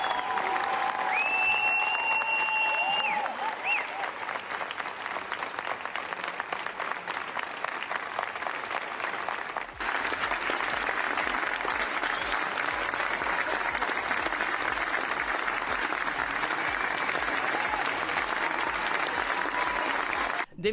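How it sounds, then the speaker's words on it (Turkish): A theatre audience applauds at the end of the play Afife, starring Demet Evgar, at its first staging. The dense, sustained clapping fills the hall for the whole stretch, with a brief shift in tone about halfway through. "Demet Evgar'ın oyun sonrası yaptığı konuşma büyük alkış alıyor"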